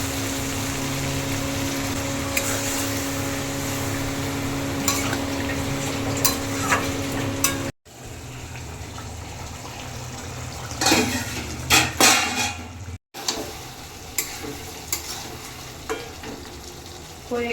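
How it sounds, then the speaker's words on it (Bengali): Water goes into a pan of frying potato and pointed gourd curry, a loud steady sizzle giving way to bubbling and hissing with stirring clatter of a utensil against the pot, no talk. "এবার জল দিয়ে দেবো।"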